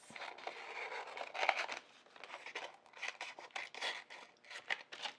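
Scissors snipping around small cut vinyl pieces, close and quiet, in short bursts of rasping, scratchy cuts separated by brief pauses.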